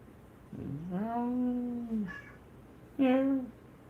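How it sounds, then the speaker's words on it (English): A cat meows twice, a long drawn-out call followed after a short pause by a shorter one, both fairly close and clear over a low background hum. "He meowing"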